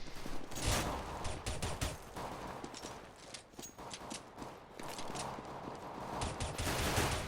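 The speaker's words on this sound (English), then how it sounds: "He's literally just pre-firing around every corner to get them." Gunfire in a shooter video game, with rapid rattling bursts of shots and clattering impacts in dense irregular clusters, fairly quiet and continuous over a busy mix of game noise.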